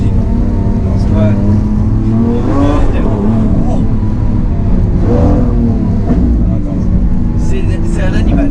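A Lamborghini Aventador SVJ with a new exhaust system revs and rumbles loudly up close, with throaty surges and exhaust pops, while people talk over it.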